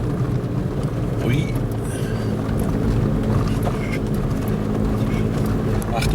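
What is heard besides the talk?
vehicle engine revving while driving through snow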